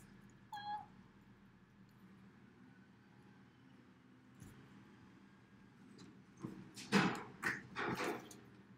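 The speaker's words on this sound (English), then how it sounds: "my cats all came in through the cat door all at once, and it was a flurry of noise" Several house cats burst in through a cat door at once, a quiet stretch followed by a sudden flurry of clattering, thumping bursts close by near the end, with a faint earlier chirp.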